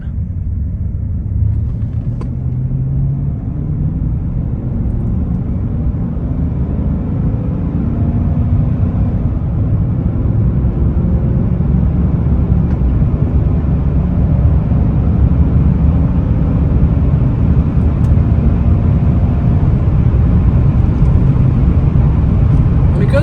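A 2014-2018 GM pickup truck driving after a 6L80e transmission swap, a steady low engine and road rumble heard from inside the cab, rising slightly as it moves along.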